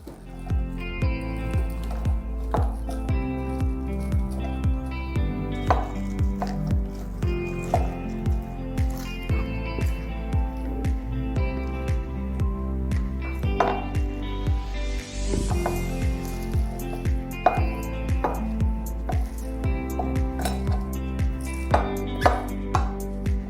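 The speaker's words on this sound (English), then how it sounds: "So what I'm going to do now is mix them all in a bowl." Chopped avocado, lettuce, cabbage, apple and carrot tossed together in a bowl, making repeated soft squishes, taps and rustles in an uneven rhythm over a steady tonal background.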